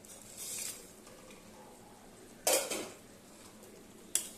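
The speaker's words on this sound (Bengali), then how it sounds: "এবার মাছগুলো দিয়ে দেব।" Pieces of katla fish go into a simmering curry in a pan, with a soft clink of utensils, a louder clatter midway and a short metallic tap near the end over a quiet kitchen background.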